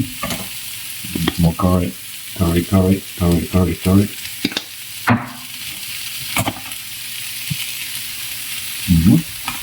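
Curry tofu being fried and stirred in a hot pan makes a steady sizzle, with sharp scrapes and clatter of the utensil. A person talks briefly over it at several points.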